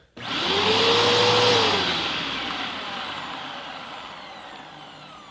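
A Bissell Powerforce upright vacuum cleaner runs after a bearing upgrade, its brush roll spinning with a steady whine that swells loud near the start and then settles into a slowly fading hum, heard alone.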